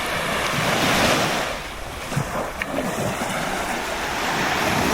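Waves wash onto the beach at Hel, Poland, in a loud, broad surf roar mixed with gusty wind buffeting the microphone. The roar swells and eases slightly across the clip.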